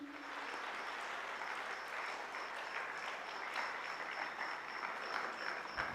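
An audience at a conference claps after a solo performance, dense sustained applause from many hands filling the hall, steady and fairly loud throughout.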